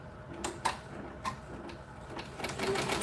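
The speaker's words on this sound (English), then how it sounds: "show you guys the rounds of this machine and how it stitches" An embroidery machine stitches out a Halloween sample, giving a steady mechanical whir broken by several sharp clicks and ticks, close by and moderately loud, with no voices.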